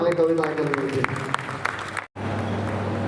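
At a Marathi poetry gathering, scattered claps from the audience ring out under a voice, then a short dropout gives way to a steady low hum.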